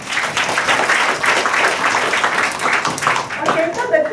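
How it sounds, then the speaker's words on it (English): An audience at a panel session of the Malaysia Online Entrepreneurs Success Summit claps steadily for about four seconds, a dense, even applause filling the hall, with a voice briefly audible near the end. "can we give a round of applause?"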